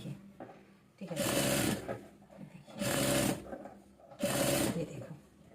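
Sewing machine stitching lace trim onto a salwar, running in three separate bursts of roughly a second each with short pauses between, close and clear.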